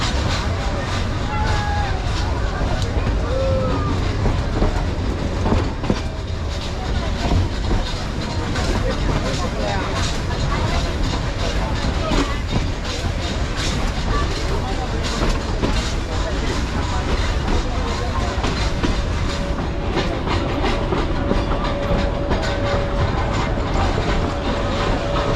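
The Nilgiri Mountain toy train rolls into Mettupalayam station, a continuous rattling clatter of wheels and carriages under a busy hubbub of passenger voices, with occasional brief squeals, sustained and fairly loud throughout.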